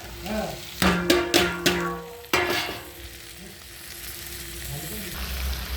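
Ginger, tomato and green chili hit hot oil in a pan, bursting into a loud sizzle with several sharp crackling spurts in the first seconds, then settling into a softer, steady frying hiss.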